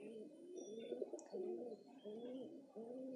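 Giribaz pigeons, a high-flying breed, give a series of soft, rolling coos in repeated phrases, fairly close and steady, with faint chirps higher up and no talking.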